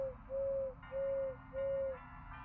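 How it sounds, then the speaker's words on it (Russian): An animatronic bird in the video game Crow Country gives a faint electronic call of four even, pure-toned hoots in a steady rhythm over a low background hum. "Аниматроник Bird. Птица аниматроник."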